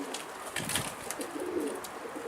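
Pigeons cooing softly nearby, a couple of low burbling calls over faint outdoor background, with no talk.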